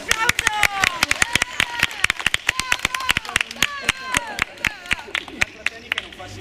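An audience at a village Olympics event claps in a quick, uneven burst of sharp hand claps that fills the room, with voices calling out over the clapping.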